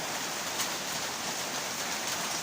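Heavy rain pours down on a farm during a storm, a steady, dense hiss of drops, fairly faint and continuous with no voices.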